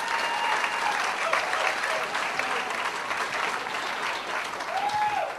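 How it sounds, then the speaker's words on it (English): Comedy club audience at McCurdy's applauds a stand-up comedian, a sustained wash of clapping with scattered cheers that holds steady throughout without any speech. "tell you how much I appreciate your applause"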